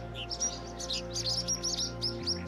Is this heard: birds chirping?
yes